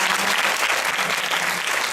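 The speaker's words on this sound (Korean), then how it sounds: "박수 한번 부탁드립니다." A church congregation applauds a newly introduced choir conductor during a Sunday worship service, a short, dense, steady burst of many hands clapping from a full room with no voices over it.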